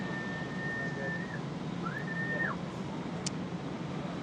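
Whistles from the gallery at a surf contest in Tahiti, two drawn-out rising whistles heard at a distance over steady ocean and channel ambience, with a brief sharp chirp after.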